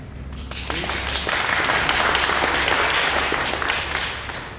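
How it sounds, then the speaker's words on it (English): A conference audience claps for a few seconds, swelling from a scattered start into a full, close round and then easing off toward the end. "a round of applause for the amazing work that we've done"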